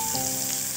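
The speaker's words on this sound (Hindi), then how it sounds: "सबसे पहले हम ऑयल में अदरक और लहसुन का पेस्ट डालेंगे" Ginger-garlic paste sizzles in hot oil with a short, close, hissing fizz that stays loud and steady for under a second.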